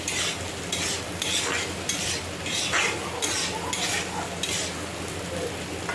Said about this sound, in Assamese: চিকেনটো আৰু আলুটো অলপমান টাইম ফ্ৰাই কৰি লৈছোঁ।